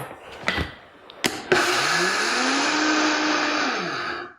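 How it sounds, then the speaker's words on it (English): A kitchen blender grinding oats into flour, starting with a few sharp clunks and then a loud, steady whirring roar that rises slightly in pitch before winding down, with no voices. "so we want to blend them before we measure them"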